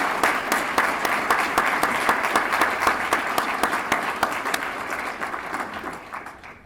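An audience at a political lecture in Washington, D.C. applauds steadily for several seconds after the introduction, the dense clapping gradually thinning and fading toward the end.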